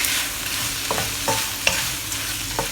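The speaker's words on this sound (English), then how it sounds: "Give it a good stir." Squid, prawns and green spring onion being stirred in a hot pan for a Korean gochujang seafood stir fry, a continuous sizzle with a few soft scraping strokes of the spatula, no voices.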